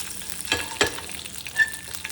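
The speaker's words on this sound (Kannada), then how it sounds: "ಸೊ ಈಗ ಆನಿಯನ್, ಚಿಲ್ಲಿ ಹಾಗೂ ಅದನ್ನ ಹಾಕಿ ಒಂದು ಸ್ವಲ್ಪ ಫ್ರೈ ಮಾಡ್ತಾಯಿದ್ದೀನಿ" Onion and chili sizzle in a pan for paneer bhurji, a steady close frying hiss broken by a few stirring scrapes, with no voices.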